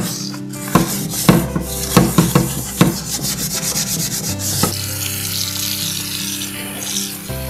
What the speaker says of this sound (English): Now we need to scrub it nicely with the dishwashing liquid.